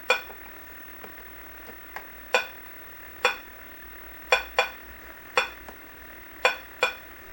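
Pong on an early Atari console, giving sharp, short blips at uneven intervals as the ball is hit back and forth. About a dozen quiet, close hits sound over a faint hum.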